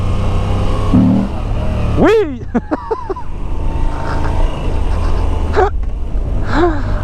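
A motorcycle engine runs at steady idle beneath bursts of excited chatter, then a quick rev swells and falls around midway, with a short word spoken early on.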